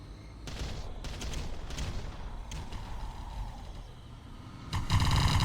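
Artillery bombardment explosions in the real-time strategy game Ground Control: scattered distant booms and rumbling blasts over a steady battle din, ending with a louder, closer burst.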